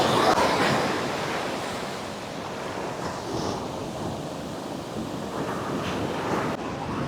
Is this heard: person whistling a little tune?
no